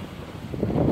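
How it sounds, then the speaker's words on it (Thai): Wind buffets the microphone outdoors on a rainy day while cattle are tended, a steady low rumble that swells louder toward the end, with no voices. "ลม"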